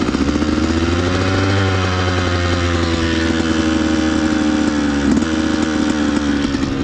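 Cheap KTM motorcycle engine running steadily with a big exhaust leak near the cylinder, a loud continuous buzzing drone with rapid raspy pulsing throughout, no speech.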